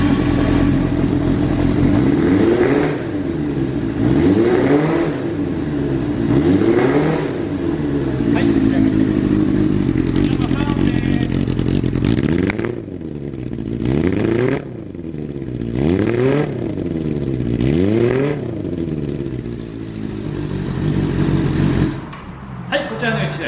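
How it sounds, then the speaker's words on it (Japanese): Kawasaki Zephyr 400 motorcycle with a Midnight Monaka exhaust idles loudly up close and is blipped repeatedly, each rev rising and falling in a steady rhythm of throttle sweeps. "ではエンジンの方を始動していきます。"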